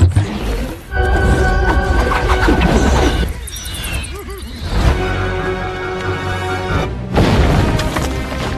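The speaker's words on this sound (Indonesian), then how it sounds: "Mereka dihujani peluru dan dinamit." An animated film battle plays out with loud booming dynamite blasts and crashing impacts under a dense, continuous music-and-effects mix that stays loud throughout, with brief dips between explosions.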